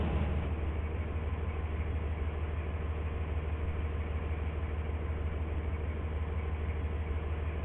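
A five-coach passenger train rolling along in the Stepford County Railway video game, a steady low rumble with a constant mechanical hum and a high whine held evenly throughout.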